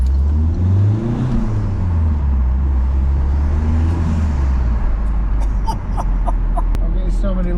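A Peugeot RCZ HDi diesel engine with a homemade cold air intake drones steadily from inside the cabin, its pitch rising and falling as it pulls under load, with faint clicks near the end.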